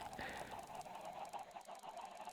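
Minecraft chickens packed inside a chicken packer make faint, repeated clucking in a steady run of short calls.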